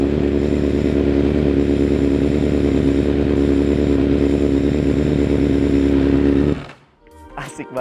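A BMW S1000RR inline-four sport bike engine revs loudly and steadily with the clutch pulled in, a dense sustained howl close by that cuts off abruptly near the end.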